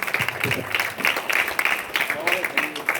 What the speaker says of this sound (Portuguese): quem crê aplaude o nome do Senhor